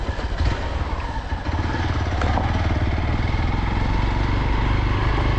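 A motorcycle rides along a road between a home town and a lake, its engine droning steadily and close with a busy mechanical clatter throughout, no voices.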